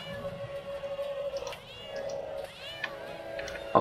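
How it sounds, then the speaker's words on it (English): A cat meowing in South Park: The Stick of Truth: several drawn-out, wavering meows and yowls one after another, loud against a steady background tone from the game. "This kid is fighting the cat."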